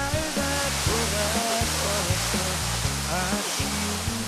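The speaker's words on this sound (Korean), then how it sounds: "골짜기에서 흘러온 물이 바위 벼락을 만나면 거대한 물줄기로 떨어집니다." Water roars in a dense, constant rush, like a large waterfall up close, with faint tonal music underneath.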